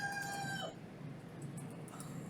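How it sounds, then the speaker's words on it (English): A rooster crows outdoors near the docks, a loud drawn-out call that cuts off abruptly, followed by faint scattered clucks and quiet background ambience. "It's just me and the chickens here."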